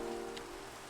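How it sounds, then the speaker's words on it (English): Steady rain falls in the game Minecraft, a continuous dense hiss of drops with a low hum underneath, even and unbroken throughout. "Still raining."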